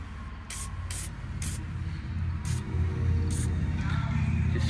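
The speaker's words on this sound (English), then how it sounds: "Just spray a little bit of lube on it." Several short bursts of aerosol lubricant spray hiss, one after another with brief gaps, over a low steady mechanical hum, lubing a generator's carburetor area.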